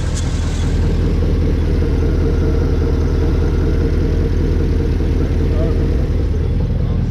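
A cammed maroon truck idles after sitting all winter, its steady low engine rumble running continuously up close with a faint lope and no tick, alone.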